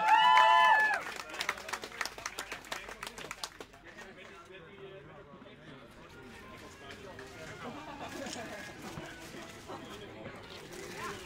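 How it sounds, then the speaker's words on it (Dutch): A short burst of crowd clapping for the day's winner at a multi-day event in Zevenhuizen, loud at first and then thinning into scattered claps within a few seconds, followed by people talking. "geef hem een applaus, Patrick van der Duin."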